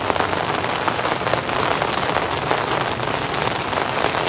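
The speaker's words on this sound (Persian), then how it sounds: "آره بارش دیگه گیر کد بارش کده دیگه" Steady rain falling on surfaces at a campsite in Norway, a dense continuous patter with scattered louder drops, heard alone without talk.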